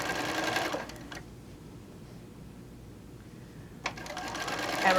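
A sewing machine runs a quarter-inch quilt seam, whirring steadily and close for about a second. It stops for a quiet stretch, then starts whirring again toward the end.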